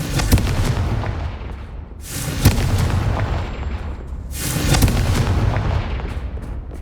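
Confringo blasting spell explosions in Hogwarts Legacy boom twice, each a heavy burst with a rumbling tail, separated by a few seconds, loud and close with no talk.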